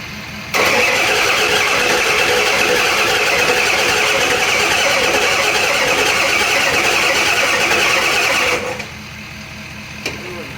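A 1986 Ford F350 crew cab engine fires up after priming and runs loud and steady for about eight seconds, then cuts off abruptly, leaving a quieter background.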